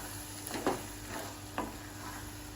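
Pork curry being stirred with spices in a pan, a quiet low sizzle with a few soft scrapes of the spoon at irregular moments, no talk.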